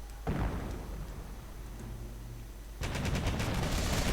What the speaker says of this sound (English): Sherman coming under fire from that Pack 38